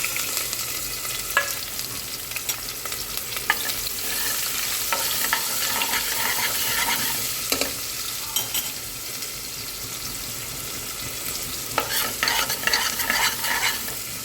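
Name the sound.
curry leaves, onion and chillies frying in oil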